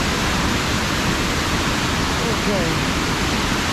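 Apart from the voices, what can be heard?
water pouring out through dam archways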